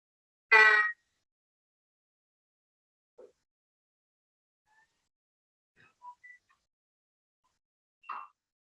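Popping noises from the Pop Swamp area of the audio game Unseen Sound: one loud pop, then a scattering of faint, sparse little pops and blips separated by silence.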